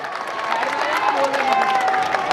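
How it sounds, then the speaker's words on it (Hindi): A crowd at a political gathering applauds and cheers to welcome a guest, a steady dense wash of clapping throughout. "एक बार जोरदार ताली बजाकर उनका स्वागत करें।"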